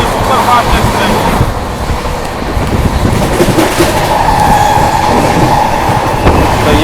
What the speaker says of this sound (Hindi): तो ये देखा दोस्तों आपने ओखा गुवाहाटी का ओवरटेक, भाई बिल्कुल फ्लैट 130 पर अपनी ट्रेन ने उसको ओवरटेक मारा